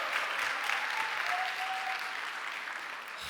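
A church congregation applauds at a New Year special dawn prayer service, a steady, fairly quiet wash of clapping that holds evenly throughout with no talk over it.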